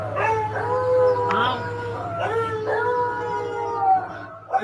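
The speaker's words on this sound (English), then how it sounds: "Somewhere in the dark, I thought I heard the dog bark." Dogs howl in long, wavering, overlapping calls with a few short yips near the end, close and loud, with no talking over them.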